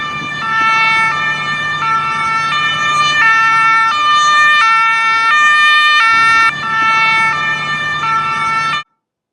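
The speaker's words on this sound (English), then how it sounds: "I will open up the siren" A siren played into a microphone, loud and steady for about nine seconds, its wailing tones stepping up and down in a repeating two-tone pattern before cutting off abruptly.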